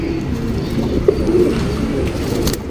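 A patta breed pigeon coos in low, throaty rolling phrases close by, steady over a soft background murmur.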